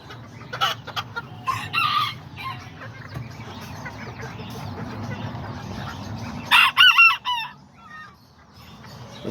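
A rooster crows loudly nearby near the end, with scattered clucking and other fowl sounds before it.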